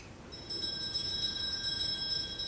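A stage bell rings in a school production of Macbeth, its tone sustained and steady at moderate loudness after a brief quiet start, with no voices over it.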